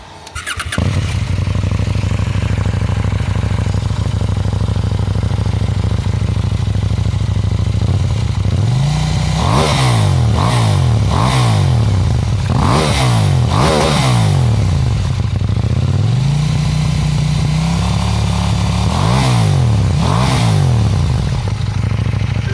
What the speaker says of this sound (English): The exhaust of the 790 Duke.